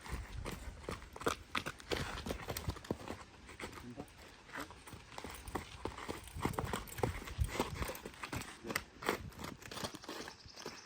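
Irregular horse hoof clopping on a hard surface, close and steady, with scattered knocks and shuffling around it.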